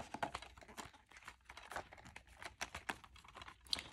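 DVD packaging holding discs is folded back up close by, a series of soft crinkling taps and plastic clicks in an uneven rhythm.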